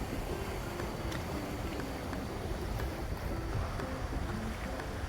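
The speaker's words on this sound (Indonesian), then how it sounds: "kita bisa menikmati deburan ombak" Steady roar of surf against a rocky shore at Anyer beach, Indonesia, waves washing in continuously with a constant low rumble and no voices.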